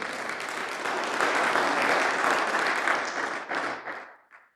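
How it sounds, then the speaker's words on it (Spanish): An audience at a Catholic religious gathering claps loudly together in a sustained burst of applause that swells, holds steady, then trails off into a few scattered final claps. "Fuerte las palmas para nuestro Señor"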